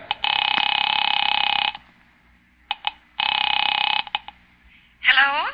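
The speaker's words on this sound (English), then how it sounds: "Picking it up quietly, I dialed my daughter's number, Alec Bartlett's wife." Telephone tones in a 1945 radio drama: two long, steady electronic rings with short clicks between them, loud and close, and then a voice starts speaking.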